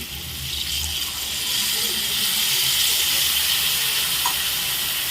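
Water hisses and sizzles into a hot pan of okra curry, a steady bubbling rush that swells slightly and holds, close and fairly loud.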